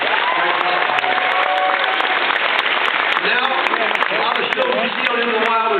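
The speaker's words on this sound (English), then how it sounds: "let's have a round of applause for SeaWorld Busch Gardens" An audience at SeaWorld Busch Gardens in Florida applauding, broad loud clapping that fills the clip, with voices and animal-like calls or cheers mixed in above it.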